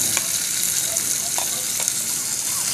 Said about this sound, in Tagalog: Sunod na natin ilagay yung kamatis,